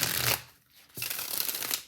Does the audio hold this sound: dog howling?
no